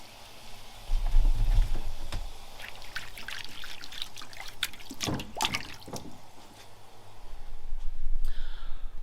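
Water trickles and drips as a leather belt strap is dipped and moved in water, with soft splashy bursts in the middle and a low rumble near the end.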